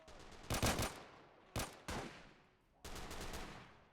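Gunfire exchange in Call to Arms: several separate bursts of automatic fire, a longer volley, two short sharp bursts, then another sustained volley, each ringing out against a quiet gap.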